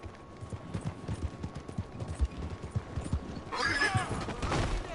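Horse hooves clip-clop at a steady walking rhythm in the video game Red Dead Redemption 2, moderately close, and a horse whinnies over the final seconds.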